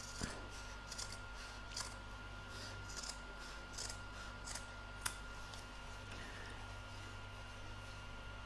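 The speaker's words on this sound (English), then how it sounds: "Cut straight through the zip." Scissors cut through a fabric in-the-hoop lined bag and its zip, giving soft crisp snips and rubs at an irregular pace, close and quiet.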